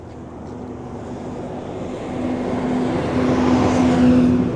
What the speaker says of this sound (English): I think it gives it a good sense of scale when you see the bus going through